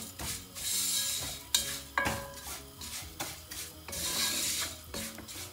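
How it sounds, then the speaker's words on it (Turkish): Vermicelli toasts in hot oil in a soup pot, a soft sizzle under repeated scraping stirs and light metallic clinks of a utensil against the pot, moderately close and without talk. "Birazcık rengi pembeleşinceye kadar ama yakmadan çok az böyle karıştırarak kavuruyoruz."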